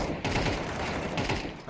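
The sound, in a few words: gunshots in video game Counter-Strike 2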